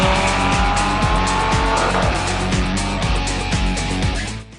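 A 2008 Lamborghini Gallardo LP560-4 or Ferrari F430 supercar drives hard on a British country road, its engine roaring loudly and steadily with rhythmic pulsing revs and a brief tire squeal midway.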